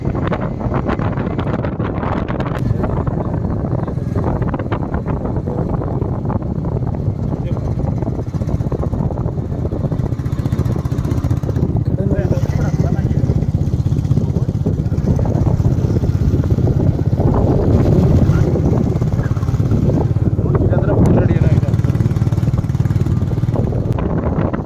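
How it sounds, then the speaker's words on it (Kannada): A Royal Enfield Meteor 350 motorcycle rides steadily with the engine drone close and loud, while constant wind buffeting and a rider's voice run over it throughout. "ಗಾಡಿನ ಸೆಕೆಂಡ್ ಗೇರ್ ಬಿಡ್ತಾ ಇದ್ದೀನಿ"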